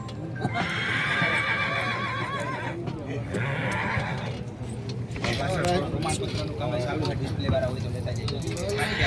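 Horses whinny and neigh several times over a busy, noisy crowd at a village fair with a horse race, with hooves clip-clopping nearby and a steady hum underneath.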